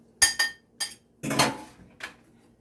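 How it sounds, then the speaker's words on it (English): A fork beats an egg in a bowl for egg wash for a fresh peach pie, giving a handful of quick, bright clinks and a short scraping whisk, close and alone. "so we just beat the egg and put your egg wash on it"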